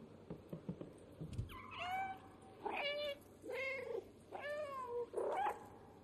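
Cat character in the video game Stray meows four times in a row, clear, drawn-out calls with rising and falling pitch, fairly close and alone after a few soft thumps.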